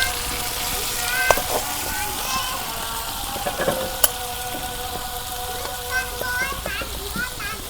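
Oil heats in a pan for a village-style chicken curry, giving a steady, close frying hiss with occasional soft clinks and a faint tonal hum in the background.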